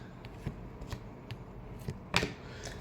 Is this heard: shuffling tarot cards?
yes